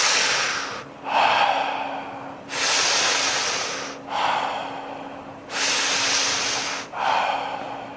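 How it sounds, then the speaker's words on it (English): Deep, steady breathing in and out during a guided exercise, a loud close rhythm of long rushing breaths alternating about every one and a half seconds, with no talking. "so we'll be breathing in"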